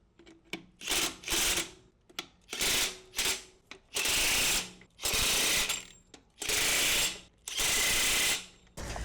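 A Makita impact wrench on its lowest torque setting rattles lug nuts off a garbage truck wheel in repeated short and longer bursts, loud hammering chatter separated by brief pauses.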